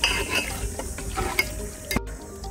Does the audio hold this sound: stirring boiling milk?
yes